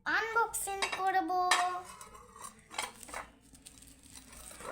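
Plates and dishes from a boxed school prize set clink and clatter together as they are handled and unpacked, several bright knocks close by in quick succession, then quieter rattling.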